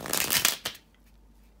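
Tarot cards are shuffled close by in a quick, crisp riffling burst, then a brief pause and a single soft flick.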